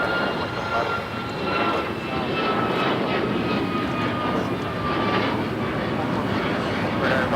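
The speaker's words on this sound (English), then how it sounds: "284 taking off to Newark on the MAX 8 in the Honoring Those Who Serve livery." An Alaska Airlines Boeing 737 MAX 8 in a special livery takes off from Los Angeles International Airport for Newark, its engines a loud, steady roar that holds throughout without a break.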